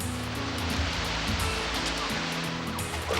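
Ocean surf washes steadily as a continuous broad roar of breaking waves, loud and close, with no talking.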